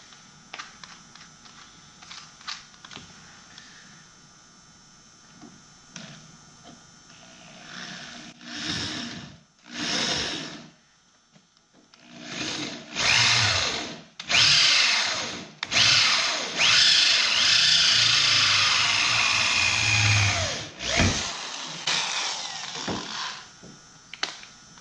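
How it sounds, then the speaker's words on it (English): A power drill whirs in repeated bursts, starting and stopping several times, with a louder sustained grinding stretch near the end as it bores a hole through steel on a VW Westfalia bus pop-top. "So now I will drill"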